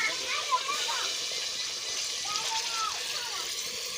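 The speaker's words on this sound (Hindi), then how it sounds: "अभी इसमें डालते हैं थोड़ा सा पानी।" Water poured into a pot of curry being cooked, a soft steady pouring and sloshing that runs for a few seconds at moderate level, with faint background sounds.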